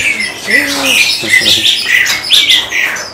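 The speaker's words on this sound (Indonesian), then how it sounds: "Bisa dipegang ya burungnya." A Bali myna chick calls while held in the hand, giving a run of close, bright chirps and squawks, with a few lower wavering notes early on.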